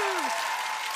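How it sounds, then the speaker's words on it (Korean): A short burst of audience clapping at a Korean stage comedy show, dense and even throughout, with a voice sounding at the start. "딱 요 정도 박수만 필요해"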